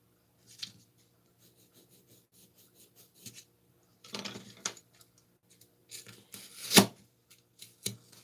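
Scissors cutting a bolt shape out of a sketch, short bursts of snipping and paper rustle separated by quiet pauses, close and fairly soft.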